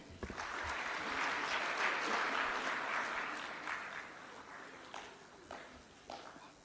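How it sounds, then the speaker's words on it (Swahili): An audience applauds in a sustained burst of clapping that swells and then thins out into scattered claps, heard at a moderate distance. "Ndio hao, makofi mengi."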